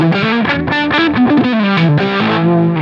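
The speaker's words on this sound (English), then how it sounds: "I love this preset, by the way. It sounds really cool. The delay is really cool." Electric guitar played through a delay effect preset, distorted and chorused, a loud run of melodic notes with echoing repeats trailing each phrase, no voices.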